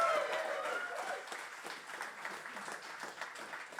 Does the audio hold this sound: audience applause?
yes